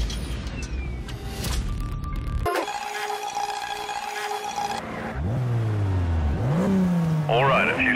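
BMW 135i engine in the Need for Speed Shift racing game on Xbox 360, a loud steady drone that shifts tone midway, then revs climbing in repeated rising sweeps with gear changes, under background game sounds.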